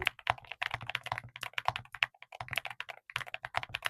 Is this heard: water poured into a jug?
no